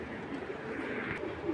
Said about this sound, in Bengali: বড় মাথার বড় সাইজের কবুতর,